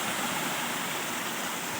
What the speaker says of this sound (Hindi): छोटी जी आबशार बहुत प्यारी बह रही है